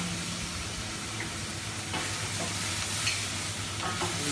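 Onions fry in a pan for a green Thai curry sauce, giving a steady, close sizzle with occasional stirring scrapes of a wooden spoon throughout.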